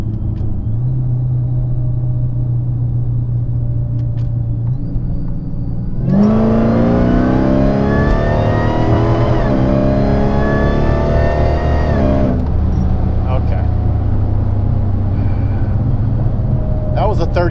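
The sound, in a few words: Dodge Challenger SRT8 accelerating, third gear pull from 40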